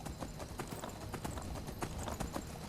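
Horse hooves clip-clop in the video game Skyrim, with a steady, rhythmic run of close hoofbeats and a faint background bed, and no voices.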